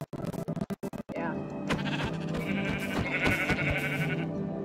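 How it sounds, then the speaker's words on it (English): Sheep in the Minecraft video game bleat in short wavering calls, with people talking over them and busy game sounds throughout. "I'm just gonna kill some sheep because I'm bored."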